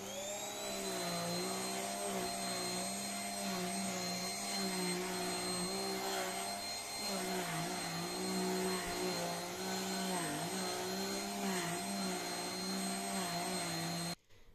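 A Jigoo S300 cleaner treating sofas, mattresses and carpets for bed bugs runs with a steady, close motor whine and airflow hum for about fourteen seconds before cutting off abruptly.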